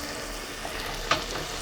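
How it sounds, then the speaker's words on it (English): A whole onion fries in a pan, giving a steady low sizzle with one brief sharp crackle or scrape partway through, close and even in loudness, with no voices. "I'm going to start with frying the onion."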